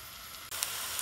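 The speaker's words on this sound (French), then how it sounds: "dans un peu d'huile, vous allez faire caraméliser 430 grammes d'oignons." Onions caramelise in a little oil in a pan, a soft, steady sizzle that grows louder halfway through.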